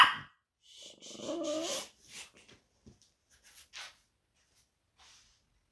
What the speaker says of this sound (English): It's not loud, it's just the dog is squealing